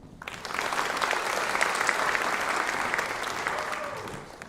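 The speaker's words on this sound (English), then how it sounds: "Would you please give them a round of applause?" Sustained round of applause from an audience at a College of Fine Arts and Communication scholars honors ceremony, starting abruptly and holding a dense, even clapping texture before tapering slightly at the end.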